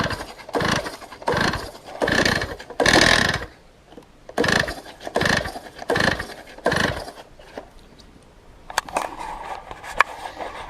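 A Stihl TS 360 cut-off saw engine, run on WD-40 instead of petrol, fires in a series of rough bursts roughly a second apart, then dies away, leaving a few faint clicks.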